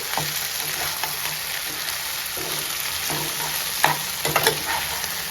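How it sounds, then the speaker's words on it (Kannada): Crab pieces fry with turmeric in a pan, a steady close sizzle broken by scraping and clinking stirring strokes, louder knocks near the end, with no talking. "ಇವಾಗ ಇದಕ್ಕೆ ಅರಿಶಿನ ಹಾಕ್ಕೊಂಡು ಚೆನ್ನಾಗಿ ಮಿಕ್ಸ್ ಮಾಡ್ಕೊಳ್ಳೋಣ. ಕ್ರ್ಯಾಬ್ ಒಂಚೂರು ಫ್ರೈ ಆಗಲಿ."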